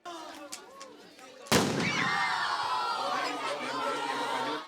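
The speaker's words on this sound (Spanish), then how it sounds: "observan de lo que puede producir la explosión de un artefacto que contiene pólvora" A gunpowder-filled device explodes and destroys a melon in a safety demonstration for secondary school students: one sharp, loud blast, followed by a roar of crowd noise and chatter.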